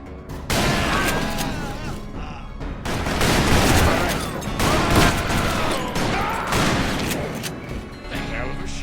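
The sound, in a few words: Gatling gun firing in Call of Juarez Bound in Blood video game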